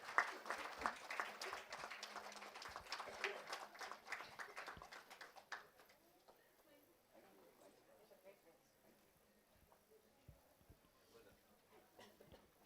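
A small audience at an AI innovation event in India claps for several seconds, crisp and fairly close, before the applause dies out into a quiet room with faint talking and a few stray claps.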